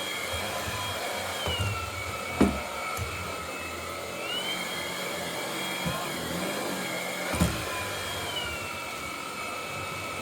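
A Dreametech T30 cordless vacuum cleaner runs steadily on a bath-mat rug, a constant high whine with airy suction noise and a couple of brief bumps, its pitch shifting slightly as suction power increases.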